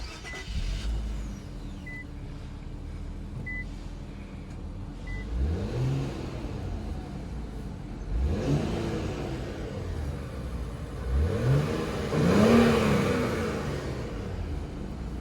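A 2020 Infiniti Q60 Red Sport 400 twin-turbo V6 revs repeatedly, rising in pitch through several gears with a steady rumble between pulls; occasional faint beeps early on.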